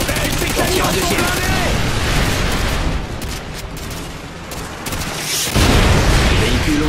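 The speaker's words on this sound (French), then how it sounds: "Je tire un javelin." Heavy battle noise from Modern Warfare 2 at Makarov's estate: continuous rapid fire with booming blasts and a javelin missile launch, a loud explosive surge near the end, dense and close throughout.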